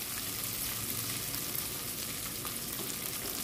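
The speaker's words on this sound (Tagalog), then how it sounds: "Gusto ko kasi igisa maigi ang alugbati." Alugbati, or Malabar spinach, is sautéed in a pan for ginisang monggo, giving a steady, dense sizzle and crackle at low volume with no voices.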